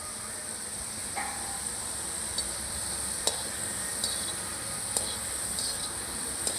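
Vegetable pakoras frying in oil in a kadhai: a steady, even sizzle and hiss at moderate volume, broken by a few sharp little clicks and pops.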